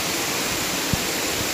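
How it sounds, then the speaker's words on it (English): A waterfall pours down a rock face, making a loud, steady, close-up roar of rushing water with a soft thump partway through. "That water falling."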